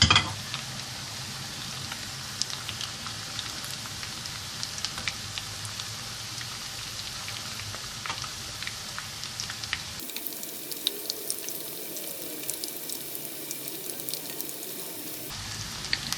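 Steady crackling sizzle of cauliflower frying in hot oil, close up, with a brief shift in tone partway through but no talking.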